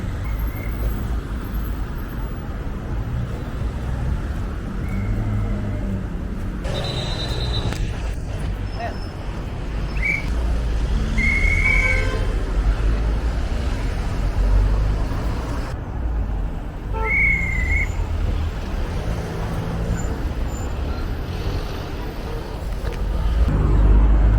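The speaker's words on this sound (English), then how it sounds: "Traffic's crazy in Tirana." City street traffic in Tirana, Albania rumbles continuously, with engines passing, a few short horn toots and a steady low road hum, while a voice talks over it.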